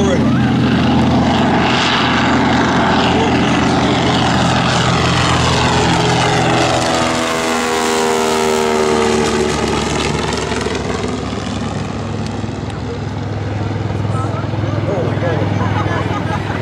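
A General Motors-built TBM Avenger propeller plane takes off at an air show, its loud engine drone rising and shifting in pitch as it passes close by and climbs away.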